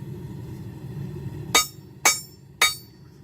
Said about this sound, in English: Start drawing that metal out.